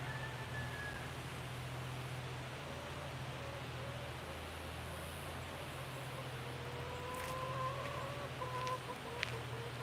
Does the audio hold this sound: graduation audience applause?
no